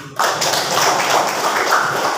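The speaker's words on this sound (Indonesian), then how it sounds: "Tepuk tangan dulu." Students in a classroom clap together during a teaching session, a brief burst of applause that starts abruptly and holds at a fairly loud, even level for about two seconds.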